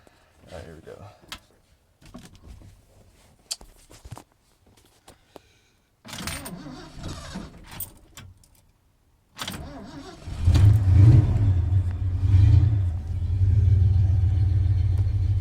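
A 1978 Ford F-250 engine cranking from a cold start: short bursts of starter cranking separated by pauses, then the engine catches into a loud, rumbling idle, with a voice talking during the early cranks.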